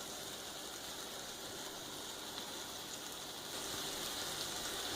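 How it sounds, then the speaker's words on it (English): Steady, crackling hiss of a burger patty sizzling in a hot skillet, constant and close throughout with no voices. "You can hear the sizzle."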